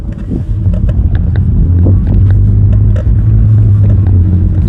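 A Varla Eagle One V2.0 electric scooter riding on its single motor at power level 1, giving a steady low motor hum with wind rumble, continuous and close for the whole stretch.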